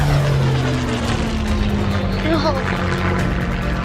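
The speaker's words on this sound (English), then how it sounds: "A scout plane, sent by Venical on reconnaissance, had spotted Julian" A propeller scout plane droning steadily and close, a loud continuous engine hum with a slight pitch shift as it passes, a brief spoken word over it, staged as an audio drama effect.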